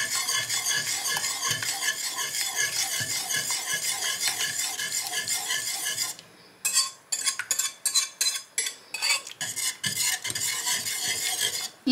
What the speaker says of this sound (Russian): И теперь эту смесь с мукой добавляем сюда. И тоже мешаем.